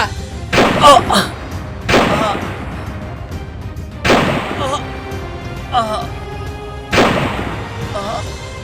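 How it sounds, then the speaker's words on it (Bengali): Gunfire in a Bangla action drama: four loud, reverberant booming shots ring out a few seconds apart, with brief voices between them. "শয়তান, গুলি করছে।"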